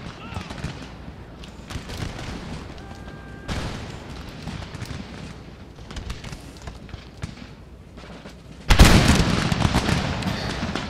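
Troops' musket volleys crackle through a Darthmod Empire battle in steady rippling bursts under a voice, ending in a loud, sharp volley near the close.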